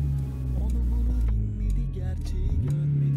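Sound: car engine revving as driver presses the pedal

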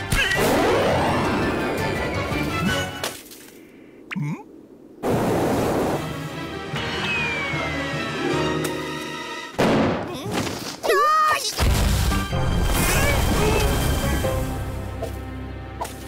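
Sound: avalanche crashing down a mountain in an animation

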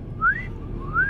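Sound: man imitating a whistle at a girl

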